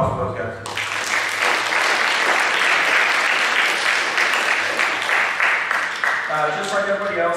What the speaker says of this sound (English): So a round of applause for those guys.